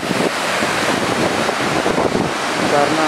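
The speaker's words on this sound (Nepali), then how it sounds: "यो चाहिँ झर्ना हो है पानी खासै राम्रो छैन" Water pours down a waterfall near Santaneshwor temple in Kathmandu, a loud, steady, broadband rush that fills the whole clip without pause and with no voices.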